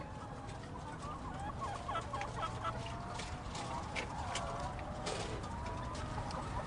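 Chickens cluck and call continuously inside a crowded factory farm shed, with many overlapping bird voices over a steady background din.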